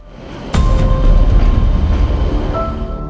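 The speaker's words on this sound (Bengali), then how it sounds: "বাংলাদেশ রেলওয়েতে যুক্ত করা হয় ডিজেল ইলেকট্রিক মাল্টিপল ইউনিট, যাকে সংক্ষেপে বলা হয় ডেমো ট্রেন" A Chinese-built diesel electric multiple unit train of Bangladesh Railway rumbles past close by, a loud sudden onset followed by a sustained heavy roar with faint metallic squeals.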